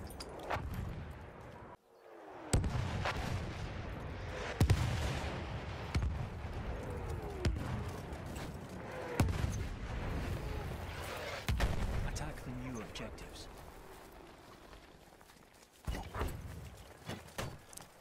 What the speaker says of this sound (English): Wait for the enemy artillery barrage to yeah.